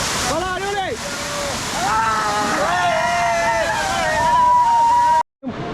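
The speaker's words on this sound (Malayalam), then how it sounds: "ഷൂ ഒക്കെ അഴിച്ചു വെച്ച് പാൻറ്റൊക്കെ മടക്കിയിട്ട് വെള്ളച്ചാട്ടത്തിന് ഏറ്റവും അടുത്തേക്ക് പോവുകയാണ്" The Vireepara waterfall at Mankulam gives a constant, full roar of falling water close by, with a person talking over it throughout.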